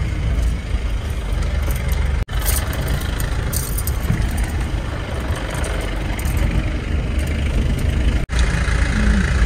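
A car engine hums steadily while driving on a narrow road, a constant mid-to-low drone with two brief dropouts and no voices.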